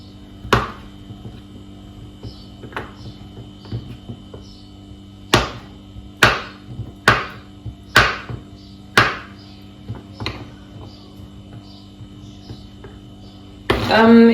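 Knife cutting a block of melt-and-pour soap base into small cubes, sharp separate chops landing on a board, sparse at first then a quicker run of cuts, close with a low hum underneath.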